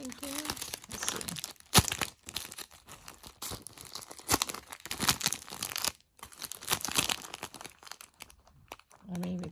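Sheets of vellum paper crinkle and rustle in the hands while a craft subscription box is unboxed, with soft crisp crackles coming in bursts close by and a voice talking now and then.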